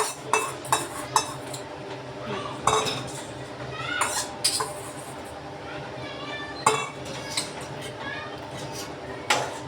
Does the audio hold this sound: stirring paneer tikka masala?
yes